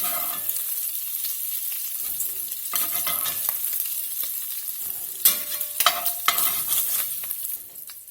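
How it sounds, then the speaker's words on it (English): Sausage browning in a hot pan, a steady sizzle with bursts of scraping and stirring toward the end, close and without talk. "Alright, we got the sausage browned up pretty good."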